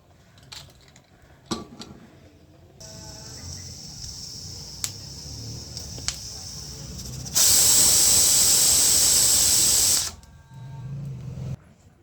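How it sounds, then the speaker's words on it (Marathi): A pressure cooker on the stove cooking wheat lapshi lets off hissing steam, with intermittent spurts first and then a loud, sustained whistle of about three seconds before it falls back to a softer hiss. "आता आपण झाकण लावून तीन शिट्ट्या काढून घेऊया"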